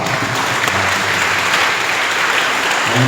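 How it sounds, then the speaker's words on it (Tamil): Congregation at a church mass applauding the young altar servers, a continuous full round of clapping that stays even and strong across the whole stretch, with no voices over it. "அவங்களுக்காக ஒரு கைத்தட்டல் இருக்கலாமா?"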